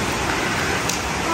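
Rain falls steadily around a house gate being painted, a loud, even hiss that fills the short stretch without any break.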